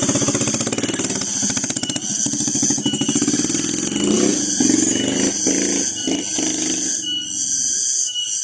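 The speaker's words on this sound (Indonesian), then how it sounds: "ternyata motor nggak sanggup untuk naik ke atas sono ya" Motorcycle engine revving hard and labouring on a steep village road, a loud rapid throbbing that surges and then breaks up as the engine strains, close by.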